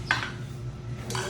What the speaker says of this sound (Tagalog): Cooking utensils. Kini siya para pangluto.